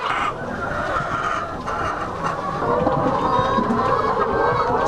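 Poultry flocks made up mostly of laying hens cluck and chatter together on a farm, forming a dense, continuous murmur of overlapping hen calls with no talking.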